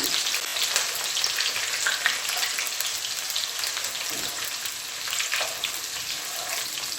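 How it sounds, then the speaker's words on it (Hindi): Ginger and garlic fry in a pan for a green chili potato dish, giving a loud, steady, dense sizzle that runs without a break and without any talking. "अदरक और लहसुन, बस थोड़ा सा इसको कुक करना।"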